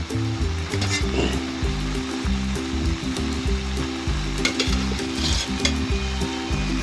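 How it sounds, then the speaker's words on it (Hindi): Ghee is added to black chickpeas simmering with tomato, onion and green chilli, and a steady close sizzle follows with rhythmic scraping and stirring of the pan throughout. "अब इसमें घी डालेंगे।"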